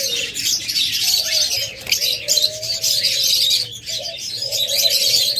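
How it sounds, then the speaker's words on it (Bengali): A pair of caged lovebirds calling nearby, with short repeated chirps and warbling tones over a busy bird-filled background, loud and continuous with brief pauses. "তারপর এখানে একটা জোড়া দেখতেছেন লাভবার্ড"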